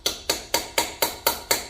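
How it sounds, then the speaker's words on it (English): Hammering a T35 Torx bit into a stripped bolt on a BMW E46: six sharp metallic hammer strikes in an even, quick rhythm, each a loud close clang with a short ringing decay. "I've got a T35 Torx bit. I'm going to try and hammer in,"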